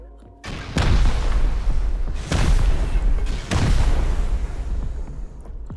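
Three loud, deep booms from high-explosive grenade-launcher rounds in the survival game Rust, evenly spaced about a second apart, each followed by a long rumbling tail.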